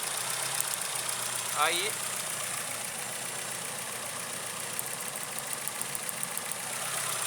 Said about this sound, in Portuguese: eu vou provocar uma falha no cilindro 3